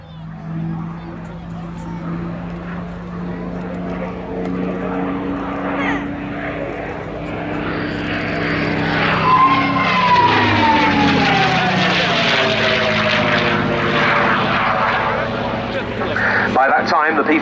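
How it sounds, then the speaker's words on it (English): A bubble-canopy P-51D Mustang, built by North American Aviation at Inglewood in late 1944 and powered by a Packard Merlin engine, flies past at an airshow with a sustained propeller drone that swells and shifts pitch, with commentary and crowd voices underneath. "it's the Packard Merlin engine that powers this bubble canopied P-51D model"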